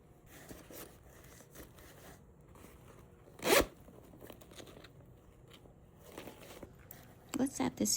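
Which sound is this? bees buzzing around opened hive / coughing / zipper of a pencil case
zipper of a pencil case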